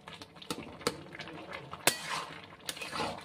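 Egg halwa being stirred in a pan, a spoon scraping and knocking against the metal in irregular strokes with several sharp clinks, close and fairly quiet, without talk.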